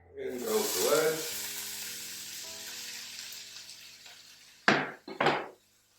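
A wedge of food dropped into hot oil gives a loud hiss and sizzle that gradually settles into a fainter, steady frying. It ends with two sharp clattering knocks of a utensil against a pan.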